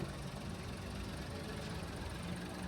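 Engine of a low-mileage 2018 Toyota Wigo automatic running steadily at idle, a close, even mechanical hum with no voices over it.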